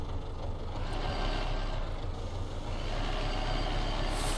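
A ZIL truck drives in the video game Farming Simulator 2015, with a steady, loud, low engine drone that holds constant throughout and no talking.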